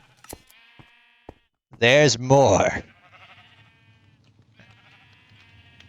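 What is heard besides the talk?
sheep bleating at Minecraft wool farm, video game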